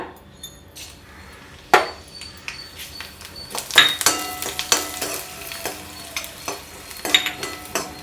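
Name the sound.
dried red chillies and spices frying in ghee in a kadai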